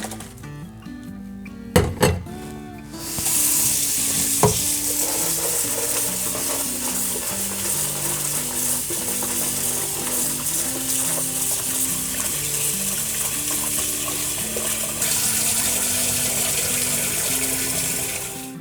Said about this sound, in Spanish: vamos a proceder a enjuagarlo.